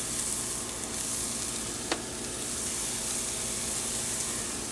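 Beef shish kebabs sizzle on a grill with a steady, soft crackling hiss and one brief sharper pop, heard alone without talk.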